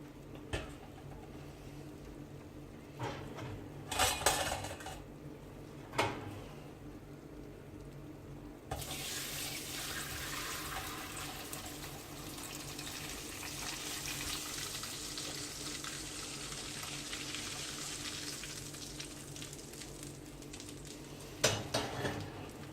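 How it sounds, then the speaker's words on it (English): Rendered lamb tallow is poured from a large pot through a strainer into a smaller pot. A few clinks and knocks come first, then a steady close-up stream of liquid splashing and trickling for most of the time. "I'm just going to pour from a larger pot into the smaller pot through the strainer"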